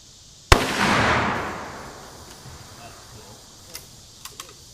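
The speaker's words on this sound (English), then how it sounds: "Alright, I'm going to shoot it right there on the main heat receptor." A single loud 30-06 rifle shot cracks once outdoors, its boom rolling away into a long fading echo, followed by a few faint clicks.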